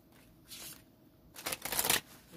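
Surrender oracle cards being shuffled by hand, a soft riffling burst early then a louder, longer stretch of rapid papery flicking near the end, close and alone with no talk.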